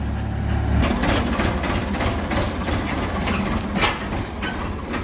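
A tractor engine idles nearby, a steady low diesel rumble with a fast, even knocking pulse and a brief louder bump near the end.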